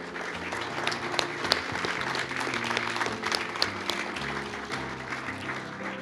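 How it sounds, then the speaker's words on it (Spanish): An audience at a tribute event for Malvinas war veterans applauds steadily, dense clapping that holds at a constant level for about six seconds. "un fuerte aplauso para Guillermo Trillo y para José Bernaccini."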